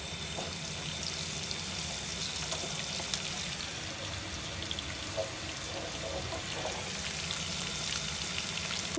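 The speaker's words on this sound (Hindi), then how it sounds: "मैंने 1 छोटी प्याज और 1 चम्मच भर के मैंने जीरा लिया है, सफ़ेद जीरा, इसको मैं हल्का सा फ्राई करती हूँ" Onion and white cumin frying lightly in hot oil, a continuous soft sizzle and crackle with a watery hiss, steady and close with no talking.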